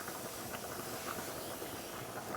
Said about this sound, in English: I hear it. It's actually boiling now.